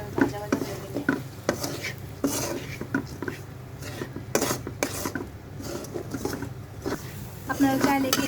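Onions frying in mustard oil while a utensil stirs them, giving scraping, clinking strokes over a steady sizzle; a voice talks throughout.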